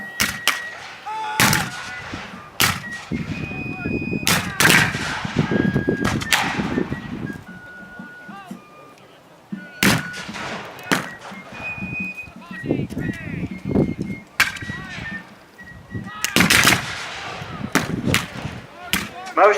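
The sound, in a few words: Civil War reenactment percussion cap muzzle-loader rifle fire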